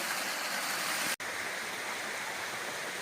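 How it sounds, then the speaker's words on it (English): A small stream tumbles over a series of little waterfalls along a woodland trail, a steady broadband rush of water heard close and continuous with no voices, broken only by a sudden cut just over a second in. "these little walks along this stream that's made about 20 different waterfalls"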